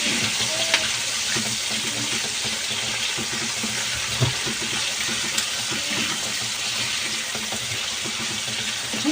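Chili and onion sauté with garlic in a pan for bagoong alamang, a continuous watery sizzle with occasional small clicks and knocks, no voices.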